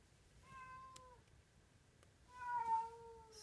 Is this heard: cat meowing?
yes